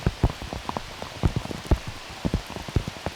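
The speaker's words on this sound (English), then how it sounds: "the rain just getting thicker by the minute" Heavy rain pours steadily at an outdoor disc golf course during a professional world championship round, with close, irregular drops pattering on a nearby surface at a fairly soft level and no voices.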